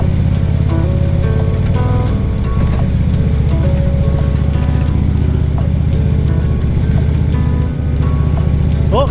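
Continuous loud rumble and crunch of a car's tyres rolling over a gravel road near Ross Lake in the Skagit Valley, British Columbia, with steady engine drone throughout.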